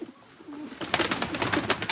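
A female pigeon coos softly and nearby, low throaty notes over a short stretch, with faint background hiss and no talk.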